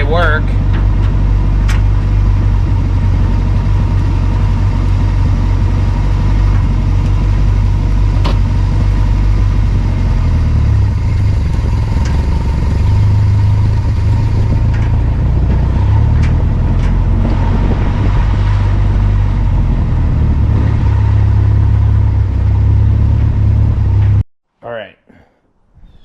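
A Datsun pickup truck engine runs steadily while driving down a street, a loud continuous low rumble throughout that cuts off abruptly near the end; someone speaks over it.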